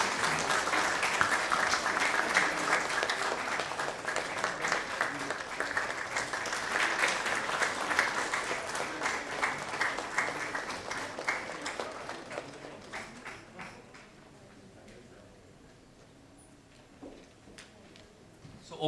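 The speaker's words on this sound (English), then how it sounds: "we have to applaud our chief guest and acknowledge his presence" Audience applause for a chief guest at a technology forum, dense steady clapping for about twelve seconds, then thinning into a few scattered claps and room quiet.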